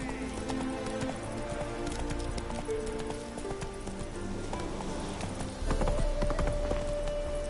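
Horse hooves gallop in a rapid, steady clip-clop rhythm in The Witcher 3, continuous and close, over background music and ambience.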